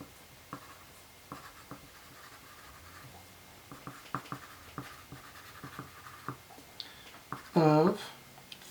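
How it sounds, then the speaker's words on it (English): Marker or pen strokes scratching across a surface while a vector diagram is drawn, as short, scattered scrapes and taps with faint talk in between, closing on one brief louder squeak near the end. "we're going to draw a vector diagram"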